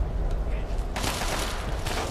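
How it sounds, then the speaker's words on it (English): Gunfire in the video game Fallout 3 Operation Anchorage, a burst of loud crackling shots starting about a second in and continuing to the end, over a low rumbling game background. "Who the hell is shooting at me?"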